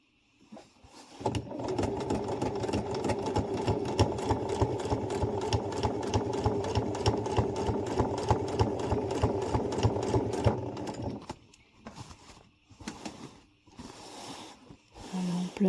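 Domestic sewing machine stitching a fabric cushion cover, running steadily and close for about ten seconds, then stopping into a few short bursts and quiet handling noises.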